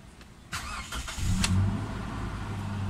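Toyota Fortuner engine cranking and catching at around half a second, then settling into a steady mid-pitched idle hum, heard close with no talking.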